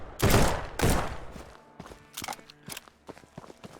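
Gunfire in the survival video game Withstand Survival: two loud heavy shots close together, followed by a series of quieter sharp cracks and clicks.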